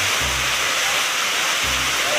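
Floodwater rushes over a dam in Montanha, Espírito Santo, Brazil, a dense, loud, steady roar of pouring water. Two short low thumps or rumbles break in near the start and again toward the end.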